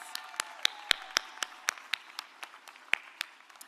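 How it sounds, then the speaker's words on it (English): Applause at a mayoral swearing-in ceremony in Birmingham, heard as scattered, distinct claps from a modest crowd, fairly faint and spaced out rather than a dense roar, over a quiet background. "That deserves a round of applause."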